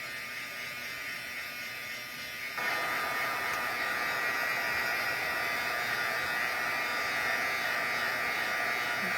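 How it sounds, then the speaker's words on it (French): An electric heat tool blows hot air to melt glitter into sticky embossing powder during a craft session, starting as a softer whir and then jumping to a steady, louder continuous buzzing drone. "on réchauffe pour venir adhérer comme il faut les brillants dans la poudre collante"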